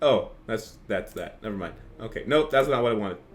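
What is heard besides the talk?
No everyday noise stands out behind the speech.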